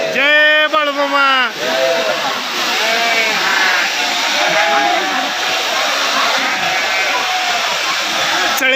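Sheep bleat loudly and repeatedly at a shearing ceremony for a devotional flock of sheep and goats. A rush of crowd noise and a steady hiss follow and carry on underneath.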